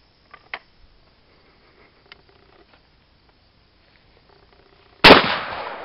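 A Norinco JW-83 shotgun firing at Tim Hortons cups outdoors: quiet faint ticks, then one sudden loud blast with a trailing echo near the end.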